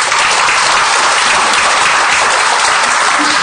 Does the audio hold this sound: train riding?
no